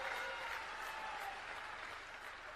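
A rally crowd claps loudly for the Home Minister, a continuous dense wash of applause heard from a distance that holds steady for the whole stretch.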